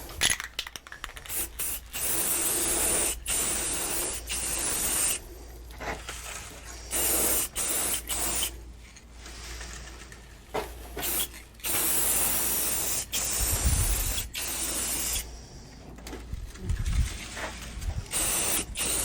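Spray finish hissing in repeated bursts onto a carved spalted walnut sign, loud and close, with short pauses and a few faint knocks and scrapes between passes.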